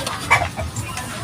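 Fighting cocks cluck in a brief burst near a farm feeding area, a single sharp call rising over low background rustle, fairly close and alone without talk.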